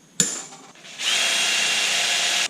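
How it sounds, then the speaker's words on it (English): A power drill bores a hole in a DIY turbo Miata intercooler bracket, with a sharp click, then a short pause before one steady high-pitched whine of drilling that holds for about a second and a half and stops abruptly. "I got that now, so we're going to tap it and then we'll drill it"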